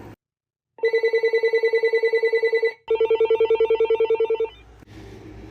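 A Uniden TRU348 cordless phone handset rings with a steady electronic ringtone, two long bursts of rapid warbling tones separated by a short gap, loud and close, then a faint rustle.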